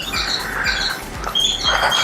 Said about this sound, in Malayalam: അണ്ണാനും പക്ഷികളുടെയും ഒക്കെ ആ ഒരു ശബ്ദമാണ് കേൾക്കാൻ പറ്റുന്നത്